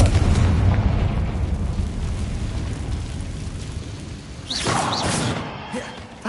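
Confringo fire spell bursting in Hogwarts Legacy, a booming blast over rumbling game ambience, with a second sharp burst flaring up partway through.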